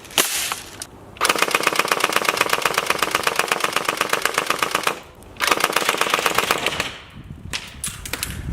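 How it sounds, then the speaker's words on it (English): A three-barrel full-auto shotgun firing in two long rapid bursts, a fast even rattle of loud shots separated by a short pause, with quieter handling sounds after. "It has 3 barrels, so a full auto shotgun."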